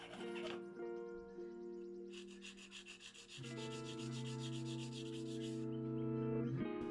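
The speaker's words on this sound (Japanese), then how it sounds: "紙やすりで形を整えていきます。" Sandpaper shapes a mother-of-pearl-style inlay for a fifty-year-old Japanese vintage guitar, with steady rhythmic rubbing strokes over sustained background music.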